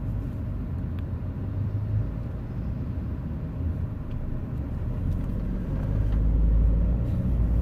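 A Volkswagen Caddy heard from inside the cabin while driving in Taiwan: a steady low engine and road rumble that swells louder toward the end, with no talk.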